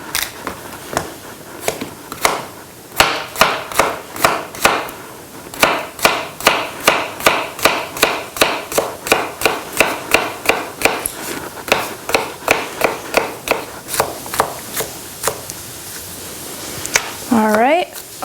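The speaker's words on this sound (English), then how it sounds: "we're gonna chop up our vegetables, or actually our squash" Steady run of sharp knife chops through squash on a cutting board, dozens of crisp evenly paced cuts close up, with a brief burst of other kitchen noise at the very end.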